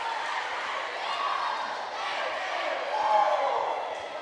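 A high-school girls' volleyball crowd at a Dutchgirls versus Wildcats match, loud and close, with sustained cheering and chanting that swells near the end, heard without commentary over it.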